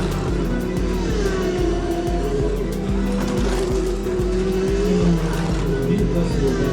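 Slot cars whir around a home racing track in a fast, continuous electric buzz, with regular clicking pulses as they lap, and voices talking over the racing.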